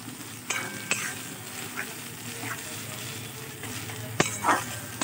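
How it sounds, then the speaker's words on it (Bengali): A spice paste with cardamom pods fries in a pan, a constant sizzle punctuated by sharp clinks and scrapes of a spoon as it is stirred. "মশলাটাকে ভালো করে কষতে হবে যতক্ষণ ওর থেকে তেল না ছাড়তে শুরু করে।"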